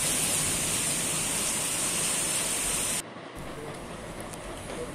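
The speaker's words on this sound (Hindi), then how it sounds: "मतलब अभी पूरा तेज़ पानी चल रहा है।" Heavy rain and fast-rushing floodwater pour in a dense, loud, unbroken roar, dropping briefly to a slightly softer wash partway through, with no voices.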